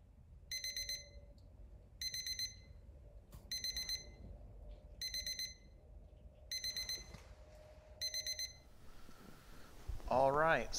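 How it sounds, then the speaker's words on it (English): A digital smoker thermometer timer alarm beeps in six regular bursts of rapid high electronic pips, each burst about a second long and spaced evenly apart, with quiet room noise between them and a brief sound at the end. "Alright, so the timer went off."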